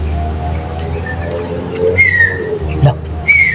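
A bird calls with a few short whistled notes, some near and some farther off, over a steady low hum, with a soft coo-like note between them.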